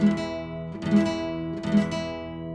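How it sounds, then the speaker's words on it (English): A guitar chord strummed three times at an even, unhurried pace, each strum ringing out and blending into the next, clear and close. "when you put it all together and you strum it as a chord"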